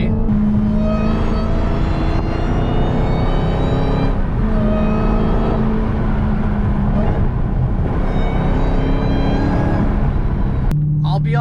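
A Dodge Hellcat fitted with a JLT mod drives through canyon roads, giving a loud engine rumble with a tonal supercharger whine that rises and falls as it accelerates.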